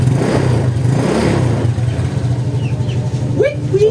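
A Honda Click 150 scooter engine runs close by, its steady mid-pitched hum rising in a couple of revving swells; a voice speaks briefly over it near the end.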